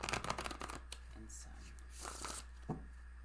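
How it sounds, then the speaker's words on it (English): Tarot cards riffle and slap together in quick bursts of rustling, followed by a few softer flicks and taps, close up over a faint hum. "I know, that's a shuffling."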